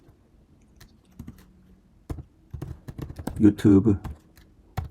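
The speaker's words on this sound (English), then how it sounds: "I need to type it." Computer keyboard typing while entering code on a Mac, with rapid uneven key clicks in bursts and someone speaking over and between the keystrokes.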